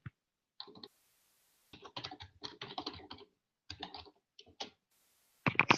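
Keys clatter on a computer keyboard in short quiet bursts of rapid clicking separated by pauses, close and alone with no talk.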